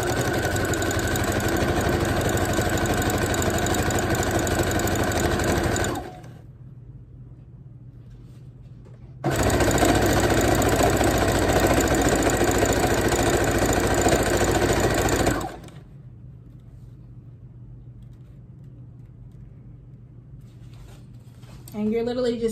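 A sewing machine stitches a straight seam down a ruffle sock. Its motor makes two steady, close whirring runs of about six seconds each, separated by a quiet pause.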